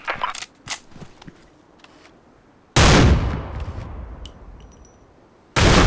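Barrett Siege sniper rifle fire in the shooter game Special Force 2: two loud, booming shots about three seconds apart, each with a long reverberant tail, after a stretch of quieter clicks and mechanical handling noises.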